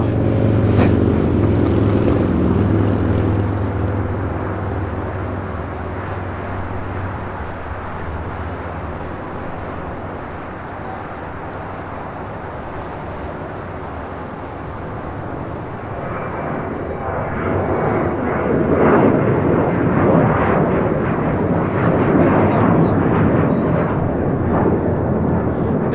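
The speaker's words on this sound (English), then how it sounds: "This is Alaska Airlines 1348, taking off to Puerto Vallarta on a 737-800." An Alaska Airlines Boeing 737-800 takes off from LAX, its heavy jet roar loud at first, dipping slightly in the middle, then swelling again as the engines power away.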